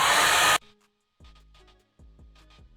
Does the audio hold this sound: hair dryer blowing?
yes